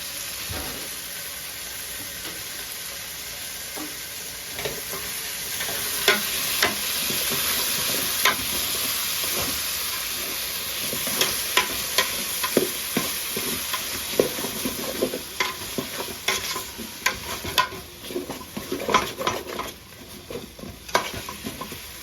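Rice flour puttu mixture stirred and frying in a pan, a continuous soft sizzle with scraping stir strokes that grow busier and sharper over time, close up with no talking.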